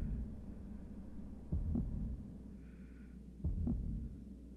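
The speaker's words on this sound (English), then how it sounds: "Forever hearing Shepherd's heartbeat." Commander Shepard's heartbeat in the video game Mass Effect: two slow double-thump beats over a low, constant hum, with a faint tone between them.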